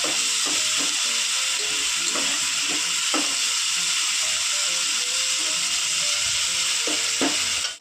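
Onions and tomatoes fry with salt in a pan for a home-style chicken gravy, giving a steady, loud sizzle throughout with scattered scraping stirs and light clinks; no talking.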